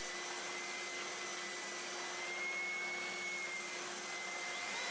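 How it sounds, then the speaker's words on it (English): A belt sander fitted with a 600 grit belt smooths wooden clappers, giving a steady, close motor whine with a constant hiss that holds evenly throughout. "these belts to 600 grit to get a very smooth finish"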